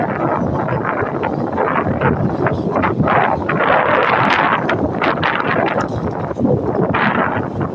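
Outdoors, wind buffets a microphone in a continuous loud, rumbling roar with rising and falling gusts and no clear voices.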